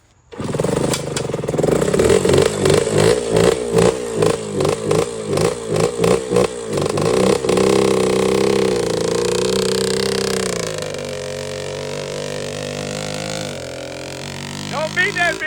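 A two-stroke motorcycle engine revs in a rapid series of sharp bursts, then settles into a steady drone as it drops into gear, with a clunk near the shift, loud and close.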